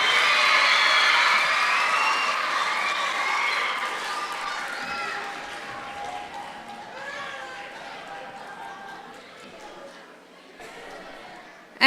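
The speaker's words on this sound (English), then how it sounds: "Can we please get a big round of applause for our Scholars Academy Color Guard?" An indoor school assembly audience applauding and cheering for the Scholars Academy Color Guard, strongest at the start and gradually fading over several seconds as the clapping and whoops die down.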